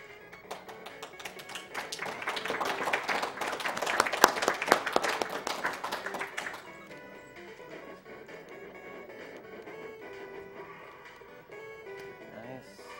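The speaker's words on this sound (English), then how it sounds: "Give yourself a big round of applause for all the hard work." A crowd applauds with dense, rapid clapping for several seconds, then it fades out beneath tonal background music.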